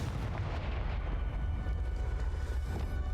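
A Confringo blast spell erupts in the Hogwarts Legacy video game, a dense, rumbling, loud explosive roar that fills the whole moment with heavy low-end boom.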